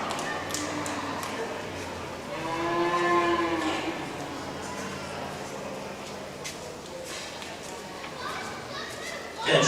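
At a county fair 4-H beef show, a cow moos loudly in a drawn-out call from the barns, set among crowd chatter and an announcer's voice over the public address.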